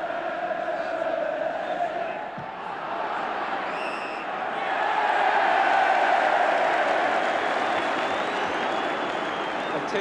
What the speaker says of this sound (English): A tinge of irony about the cheering as Everton finally get a free kick